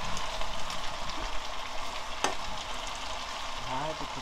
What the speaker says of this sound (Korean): 이렇게 국물이 지글지글 나오는구나